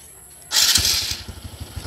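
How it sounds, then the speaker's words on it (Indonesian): A Honda Wave 125 motorcycle is started through a relay starter: a brief whirring crank bursts in, then the small engine catches and settles into a steady, quick-pulsing idle, close by. "At itatry natin ang starter."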